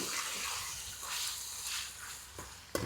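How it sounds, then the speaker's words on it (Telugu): A glass of water poured into a bachelor-style chicken curry in the pan: a soft, steady pouring hiss, fairly faint, that ends with a small clink. "ఒక గ్లాస్ వాటర్ పోస్తున్నాను"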